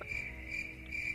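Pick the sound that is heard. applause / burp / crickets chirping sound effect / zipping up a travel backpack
crickets chirping sound effect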